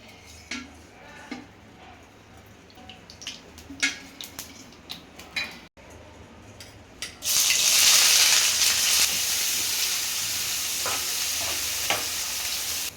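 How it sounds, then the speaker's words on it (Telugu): Chicken gizzards in a frying pan: scattered clinks and scrapes at first, then a sudden loud, rushing sizzle that starts partway through and holds steady to the end, close by, with no voices. "ఇప్పుడు సంగ్దానా ఫ్రై చేసుకుందామండి."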